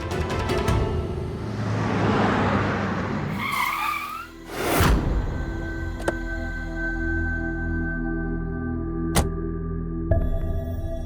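A car brakes hard and skids, tires squealing loudly and close for a few seconds before a thump and a settling engine hum, with a few sharp clicks afterward.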